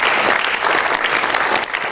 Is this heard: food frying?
no